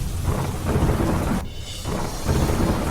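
Heavy monsoon rain pours down steadily in Ahmedabad while deep thunder rumbles through it in long rolling waves, loud and close, with no voices.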